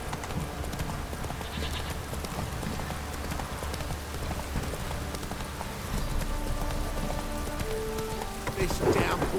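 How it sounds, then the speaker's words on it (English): Steady rain downpour hisses across a scene in The Witcher 3, mixed with the clip-clop of a horse's hooves and faint voices underneath, the wash of rain swelling slightly toward the end. "This downpour's a bastard, it is."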